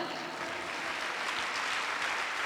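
An audience at a pastors' seminar in Guadalupe, Mexico, claps in a dense, even wash of applause that holds steady throughout at moderate distance, with no speech over it.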